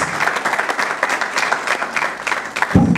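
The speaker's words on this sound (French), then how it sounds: "je vous demande quand même de l'applaudir" An audience at a political victory gathering for a Kinshasa party leader claps steadily and fairly loudly for about three seconds, a dense patter of many hands with a brief swell near the end.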